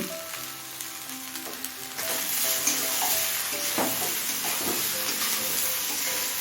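Vegetables sautéing with ginger in a hot pan for Kashmiri shukto, a steady close sizzle that swells louder partway through, with light stirring scrapes.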